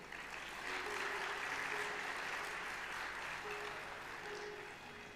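An audience applauds during a Hindi religious discourse on devotion, with a dense wash of clapping that swells quickly and holds steady for several seconds before easing a little, and faint tonal sounds sit underneath.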